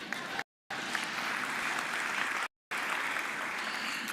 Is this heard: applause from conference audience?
yes